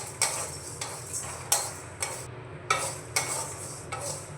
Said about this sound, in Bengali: তো এগুলোকে শুকনো খোলায় আমি ভেজে নেব।